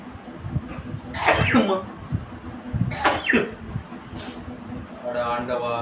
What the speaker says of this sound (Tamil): எத்தனை தும்மல்? ஒரு 10 தும்மல் வந்திருக்குமா?